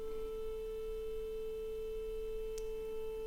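A steady 440 Hz test tone from a transmission test set hums continuously and fairly quietly in the background, with no voice over it and only a brief faint click near the end.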